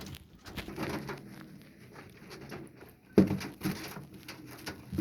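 Golden pigeons coo softly nearby, mixed with light rustling and fluttering as they shift about, with a sharper flap or scrape just after the midpoint.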